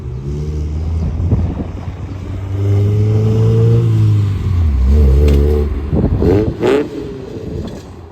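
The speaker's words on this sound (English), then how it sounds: "So now the Integra's done and we can drive it." A 1994 Acura Integra with freshly installed coilovers drives along, its engine droning loud and steady, then swelling and easing as the revs rise and fall with a few shifts, heard from close by.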